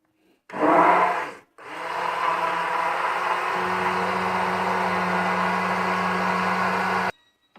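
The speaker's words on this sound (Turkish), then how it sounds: "Şimdi blenderdan geçireceğiz." A blender purees lentil soup with a loud motor whir, starting in a short burst, stopping briefly, then running steadily for about five seconds before cutting off abruptly.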